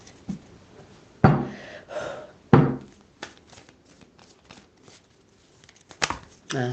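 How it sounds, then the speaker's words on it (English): Several brisk riffling bursts, like cards being shuffled, with quieter rustling and handling between them; no talking. "Alright, if this is it, I'm going to shuffle 3 times."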